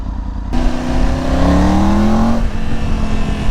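An adventure motorcycle engine accelerates close by, its loud tone rising in pitch over a couple of seconds before easing off into a steady rumble, with no talking.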